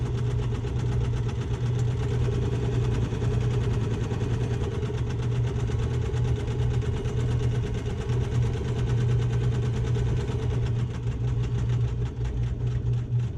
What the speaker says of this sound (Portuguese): Volto a costurar sobre a outra costura